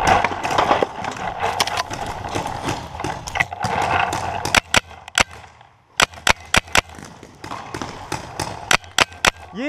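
Paintball guns fire outdoors during a game, sharp popping shots in irregular bursts, with a quick cluster of close, loud cracks in the second half after a busier stretch of movement and background noise.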